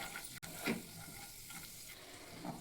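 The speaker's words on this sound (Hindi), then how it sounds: "अब मूंगफली डाल के पहले हम रोस्ट कर लेते हैं।" Peanuts dry-roasting in a frying pan, stirred with quiet scraping and soft crackle, with a brief louder stir near the middle and a faint low hiss throughout.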